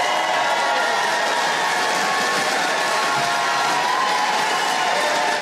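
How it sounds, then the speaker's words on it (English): A large convention crowd cheers and applauds as a state casts its votes, a dense, loud, continuous roar of clapping and shouting throughout. "she got more applause"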